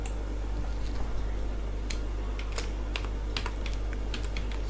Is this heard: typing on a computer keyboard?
yes